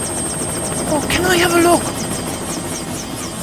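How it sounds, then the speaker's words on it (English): An emergency helicopter drones steadily overhead with a rotor buzz that runs through the whole moment, while a voice speaks over it. "That's the emergency helicopter."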